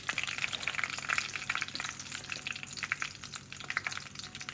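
Dried red chillies crackle and sizzle in hot oil as a tempering for bottle gourd curry, a dense, steady, close frying hiss with no talking.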